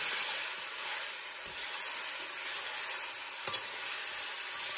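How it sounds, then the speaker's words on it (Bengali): Chicken curry, Bengali style, hisses and sizzles steadily in a frying pan as it is stirred, a close continuous frying noise with faint scraping strokes of the spoon. "আজ দিয়ে এবার নেড়ে নেওয়া হচ্ছে"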